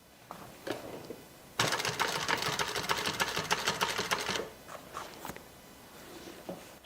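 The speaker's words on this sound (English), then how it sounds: "I'm just going to go ahead and top stitch 1/8 of an inch on each side of this seam" A sewing machine runs in one steady burst of a few seconds, top stitching 1/8 inch along each side of a bag seam, with quieter handling sounds before and after.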